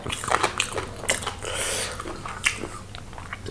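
Eating boiled chicken with a spicy fish-sauce dip produces close, wet chewing and biting sounds with smacking and tearing, steady and intimate throughout.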